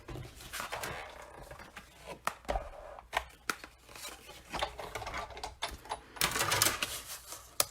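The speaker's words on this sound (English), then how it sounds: "So go ahead and bring in your big shot." A Big Shot die-cutting and embossing machine is hand-cranked with cutting and embossing plates for a peek-a-boo card, giving close, irregular clicks and crunchy ratcheting bursts with brief pauses between them.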